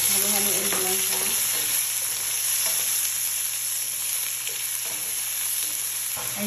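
Sliced onions frying in oil with spices for a Filipino-style chicken curry, a steady close sizzle with occasional stirring scrapes and clicks over a constant background tone.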